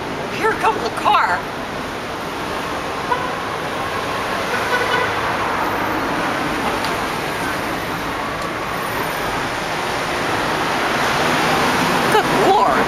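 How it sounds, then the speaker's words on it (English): A car draws near on a road, a steady broadband roar of tyres and engine that slowly swells louder over several seconds, with a brief voice at the start and no other talk. "here comes the car"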